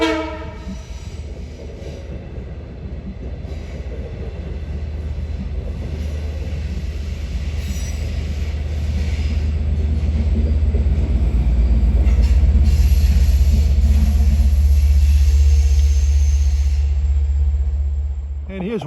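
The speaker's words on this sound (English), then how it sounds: "Here comes train 657." A non-electrified Long Island Rail Road train on the Port Jefferson Branch near East Setauket rumbles past with a heavy low drone that swells louder toward the middle and end, joined by brief horn and wheel tones.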